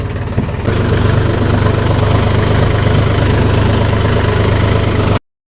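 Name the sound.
tractor engine running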